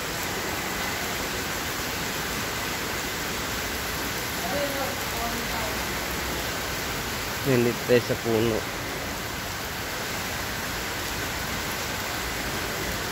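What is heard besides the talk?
heavy rain falling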